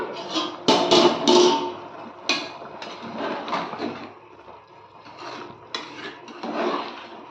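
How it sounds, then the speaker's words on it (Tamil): Metal lid lifted off a pot of cooking chicken biryani, with a couple of loud clanks and scrapes up front followed by quieter rattling and handling noises nearby. "இப்போ மூடி போட்டிருந்தோம் இல்லையா எடுத்து பார்த்துக்கலாம்"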